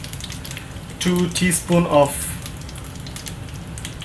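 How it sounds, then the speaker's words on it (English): Ginger garlic paste fries in a pan with a steady, close sizzle that runs throughout, while a person talks briefly over it. "So the ginger garlic paste has been cooking for a while"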